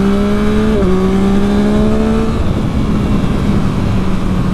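A 2021 Yamaha MT-09 SP motorcycle engine drones loudly on the road, its pitch holding steady, dipping briefly as the rider shifts, then rising slowly as it pulls ahead, over constant wind rush.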